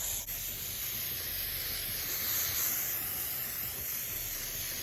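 Spray adhesive being sprayed onto Thinsulate insulation for a Ford Transit van build, a continuous close hiss that holds steady for several seconds without pause.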